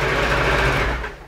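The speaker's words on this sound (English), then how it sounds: "Now I'm going to have to stay stitch around the edge because I've got this silly frilly stuff going on" Domestic sewing machine running steadily as it stay-stitches around the edge of frilly fabric, a close, continuous whirring hum that carries on without pause and eases off near the end.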